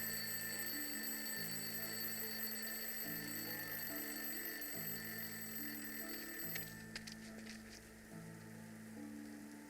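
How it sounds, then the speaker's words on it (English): A ringing alarm clock inside a rubbish bin in the video game Lost Horizon, a steady high metallic ring that continues for several seconds and then stops, leaving quiet ambience with a low looping music bed underneath. "I'll place the alarm clock in the rubbish bin. Let's see what happens when it goes off."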